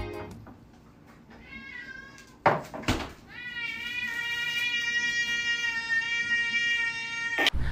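Stray cats in Jeddah meowing, with a brief rustle and clatter partway through, then a long, loud, sustained yowl held close by, ending in a sharp knock.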